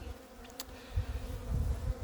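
A dense, steady buzzing of many bees close by at a hive, a low hum that swells slightly, with no talking.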